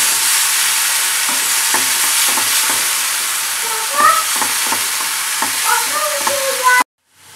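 Coarsely ground onion paste sizzles steadily in a pan, stirred now and then with soft scrapes and small pops, before cutting off abruptly into silence near the end.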